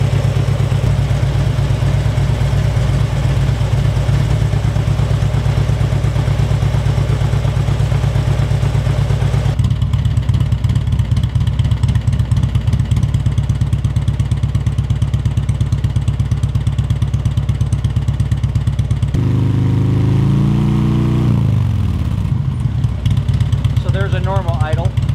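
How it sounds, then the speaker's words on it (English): A Harley-Davidson motorcycle engine idles loudly and roughly with its rear cylinder deactivated, a steady uneven throb with heavy vibration that changes pitch briefly near the end, with someone talking over it. "Starts idling a lot different. A lot more vibration in the motor because that one rear cylinder is kicked off."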